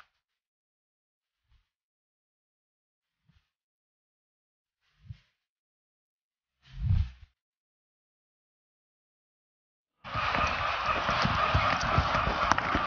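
A ridden horse's hooves give a few sparse, separate thuds that build into a louder, continuous rush of clattering footfalls near the end, close by and with no talk.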